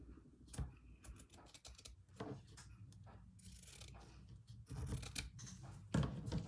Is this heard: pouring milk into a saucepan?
no